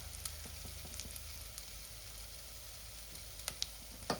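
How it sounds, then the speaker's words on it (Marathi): Garlic frying in oil as asafoetida goes in, a soft continuous sizzle with occasional crisp pops and stirring clicks, heard close and fairly quiet. "तर लसूणला चांगलं भाजल्यावर आपण आधी हिंग टाकूया"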